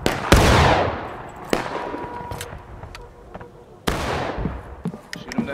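Musket fire in the Civil War game War of Rights: several sharp, booming shots crack out at irregular intervals, each trailing into a long rolling echo, with scattered distant pops in between.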